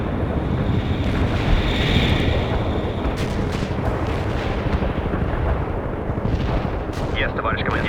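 A heavy artillery barrage in the strategy game World in Conflict rumbles continuously as a dense, loud wall of booms and roaring low noise, with a few sharper cracks near the end.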